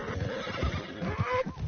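A horse in Red Dead Redemption 2 whinnies, a close, loud, wavering neigh that rises and trails off over a soft hoof shuffle.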